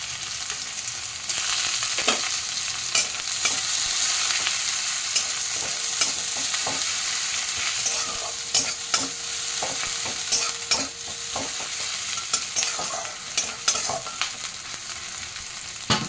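Cumin seeds and chopped onion frying in hot oil give a continuous bright sizzle, with a spatula scraping and stirring at irregular intervals, close up and without speech.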